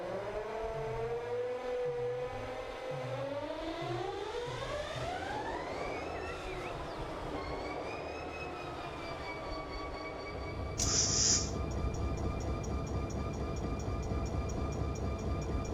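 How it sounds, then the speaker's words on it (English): A diesel locomotive starts up in Run8 Train Simulator, its engine note climbing steadily in pitch and loudness as it powers up, ending with a sudden high-pitched whine or hiss, with no talking. "We'll just simply turn the locomotive on here."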